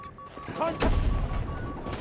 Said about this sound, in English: Got a tank shooting at me.